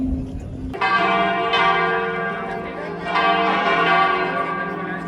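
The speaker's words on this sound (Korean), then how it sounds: "이 우렁찬 종소리는 알고 보니 미사의 시작을 알리는 소리였다." Church bells in Madrid ring out to mark the start of Mass, with loud, resonant strikes that layer into a sustained, shimmering peal close by, fresh strokes landing every second or so.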